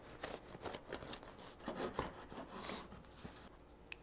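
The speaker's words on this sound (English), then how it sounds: "We're gonna cut a piece of this bread." A knife saws through a warm, puffy loaf of homemade bread in a series of close, rhythmic rasping strokes, ending with a light tap.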